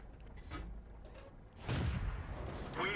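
Tank gunfire in World of Tanks striking a GW Panther artillery vehicle. A few heavy booming shots land over a few seconds, the loudest in the middle, over a low rumbling game background.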